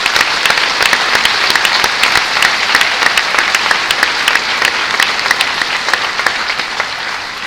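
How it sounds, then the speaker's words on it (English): A large audience at a high school graduation ceremony breaks into loud, dense applause, a continuous crackle of many hands clapping that holds steady throughout and eases off slightly at the end. "let's take a moment to applaud and recognize all the family members and everyone that has supported you"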